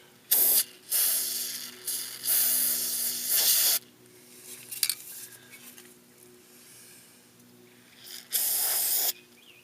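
An aerosol can sprays orange paint onto a steering rack during an E30 to E36 rack swap on a 1991 BMW 318i. Several loud, close hissing bursts come in separate pulses with quiet gaps and small handling clicks between them.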